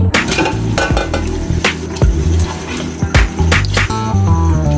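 Mutton sizzling loudly in hot oil in a pot, with steady crackling and occasional scrapes and knocks of a utensil against the pot.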